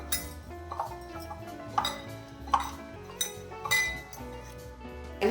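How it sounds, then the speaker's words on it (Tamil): Prawn masala being mixed in a bowl, with repeated clinks and scrapes of a utensil against the dish in irregular bursts, close and fairly clear, with no talk. "இது எல்லாமே நல்லா மிக்ஸ் பண்ணிடலாம்"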